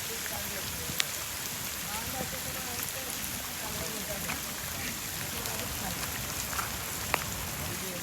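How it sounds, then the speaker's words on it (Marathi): Heavy monsoon rain during a fishing outing in Bhandup, Mumbai, a dense continuous hiss of rain on surfaces with scattered sharp drop ticks, steady and close throughout. "पाऊस खूप जास्त झालेला."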